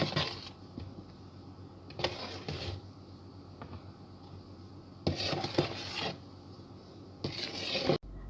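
A spoon gently folding flour into pineapple cake batter, with bursts of scraping and stirring against the bowl at irregular intervals, separated by quiet gaps, close and fairly faint.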